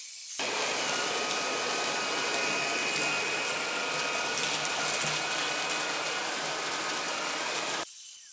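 A Jimmy H10 Pro cordless vacuum with a soft fluffy brush runs on carpet, a steady, loud whirring motor hum that holds evenly for about seven seconds before cutting off.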